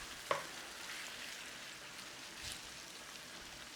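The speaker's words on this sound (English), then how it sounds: "So just keep giving it a stir through. We're trying to actually soften up that veg" Vegetables for shepherd's pie soften in a pan with a soft steady sizzle while a spoon stirs them, one sharp clink of utensil on pan early on and a faint scrape later, quiet and close.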